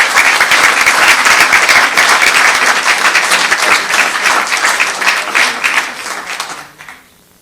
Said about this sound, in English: Let's give a round of applause to all of these folks.